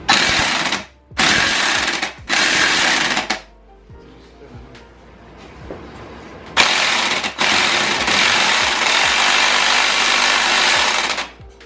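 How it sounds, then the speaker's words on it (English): An impact gun rattles in loud, close bursts while loosening a wheel on a trike in a fabrication garage, three quick hammering runs, a pause with faint shop noise, then a long sustained burst. "the other one hits it with the impact gun, that we'll be able to crack it loose"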